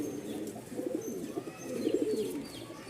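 Several pigeons coo in soft, rolling bursts, close and steady over a low background hum, with faint chirps from other birds.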